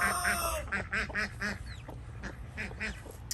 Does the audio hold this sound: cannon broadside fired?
no